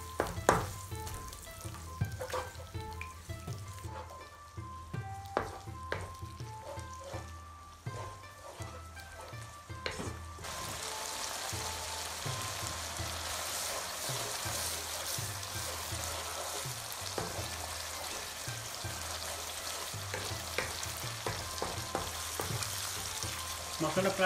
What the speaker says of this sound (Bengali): মশলাটা প্রায় কষানো হয়ে গিয়েছে